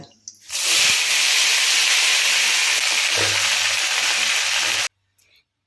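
Cut eggplant hits hot oil with popped mustard seeds and curry leaves, bursting into a loud, steady sizzling hiss that runs for several seconds before cutting off abruptly.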